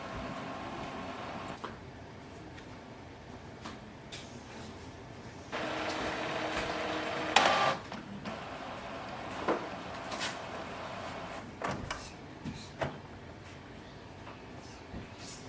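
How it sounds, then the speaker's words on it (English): An Epson EcoTank ET-4850 inkjet printer runs a printhead cleaning cycle to clear clogged ink, giving a low steady mechanical hum with a louder whirring stretch midway and scattered clicks and clunks. "Look for the option printhead cleaning. This will help you to fix the clogged ink."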